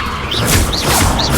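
The Levioso levitation spell is cast in the Hogwarts Legacy video game. A loud, layered magical whoosh carries three short rising shimmer tones at regular intervals over a dense low rumble.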